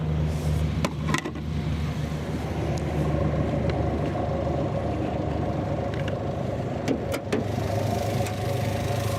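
The 2.0 liter high-output 211 hp diesel engine of a 2025 Winnebago Revel 44E idles in a low, steady rumble heard up close, with a few faint clicks over the even drone.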